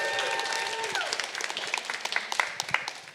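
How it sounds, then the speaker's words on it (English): An art-talk audience at a Miami Art Week event breaks into applause, a dense patter of clapping close by that continues steadily, with a few louder individual claps standing out. "we should give them a big round of applause and a very warm"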